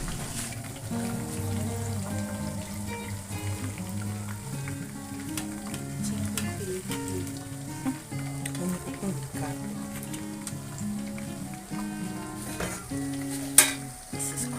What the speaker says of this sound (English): Making the stew for the jollof